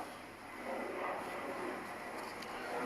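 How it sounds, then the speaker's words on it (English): An aeroplane flies overhead as a steady, broad droning roar that swells slightly and holds, heard alone without speech. "the aeroplane's drowning it all out"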